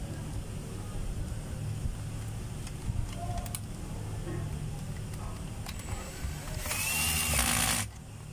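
A DeWalt D25133 rotary hammer drives screws in a short, sharp whirring burst of about one second near the end, heard over low, steady background noise.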